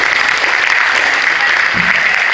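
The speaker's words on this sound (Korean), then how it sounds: "우리 두 분들에게 박수 한번 해주시면 고맙겠습니다" Audience applause at a university's 120th anniversary ceremony, a steady dense clapping that fills the whole stretch, close and loud, with no talk over it.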